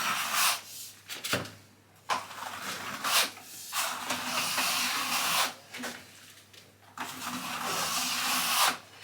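A steel-bladed Speed Skim SF spatula spreads skim compound into a wall corner, making a series of soft, close scraping sweeps, each a second or two long, with short pauses between strokes.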